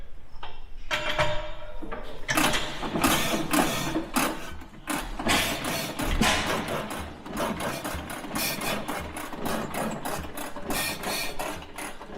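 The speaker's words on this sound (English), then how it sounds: "The engine runs on the small amount of fuel Dean put in it" An old Rumley engine runs on a small charge of fuel, firing in a rapid, uneven string of sharp mechanical beats and knocks, close and fairly loud throughout.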